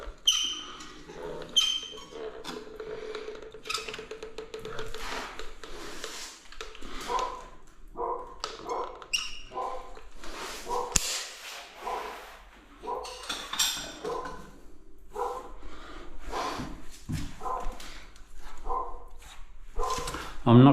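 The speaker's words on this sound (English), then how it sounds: "What's the dog barking at?" A dog barks in short bursts over a fairly long stretch, mixed with clinking dishes and people talking nearby.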